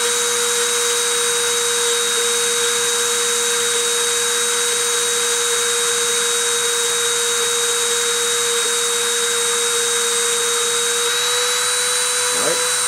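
A deposition machine runs with its spindle turning, giving a steady, loud, continuous whirring hum with a sustained high whine throughout.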